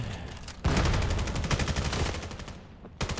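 Rapid bursts of Vector SMG fire from a Black Ops 3 Hardpoint match, dense and loud in close quarters, with overlapping shots rattling nonstop after a short pause.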